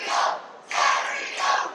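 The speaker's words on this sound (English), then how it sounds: "And the crowd now really getting behind Dominguez" Wrestling crowd at a CCW Bash event in Hialeah, Florida, roaring for Ariel Dominguez in two loud surges, a swell that fades and then jumps back, with a third rise near the end.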